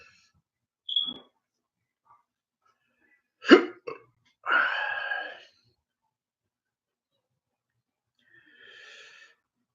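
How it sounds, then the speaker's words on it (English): Sharp hiccups from a man who has just chewed a very juicy pod, a few abrupt isolated spasms spaced seconds apart, close and fairly loud, one drawn out with a throaty catch. "Hence the reason why I got the hiccup so bad."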